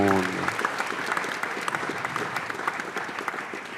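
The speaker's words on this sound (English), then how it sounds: "please give a warm round of applause" Audience at a hackathon closing ceremony in Sydney breaks into sustained applause, dense clapping from a crowd after a brief voice at the start, continuing steadily to the end.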